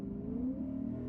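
A 2022 Lexus IS 500 builds revs under full throttle, its engine tone rising smoothly in a brief, steady pull heard from inside the cabin at moderate volume.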